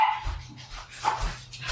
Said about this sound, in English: the dogs that are barking in the background